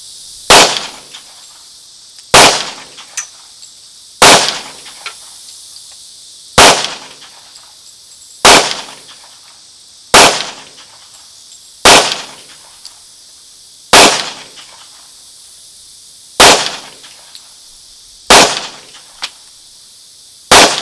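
Pistol gunshots ring out one by one at steady intervals of about two seconds, around ten sharp loud cracks fired at targets on a range using a red dot sight, each followed by a short echo.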